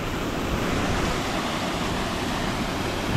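Rhiwargor Waterfall pouring into deep pools: a steady, dense roar of falling water, loud and close, continuous without any change and with no voices.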